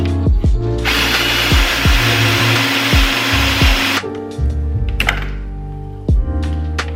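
A power drill whirs steadily for about three seconds, drilling into a kitchen cabinet door, surrounded by sharp knocks and clunks of handling before and after, close and loud.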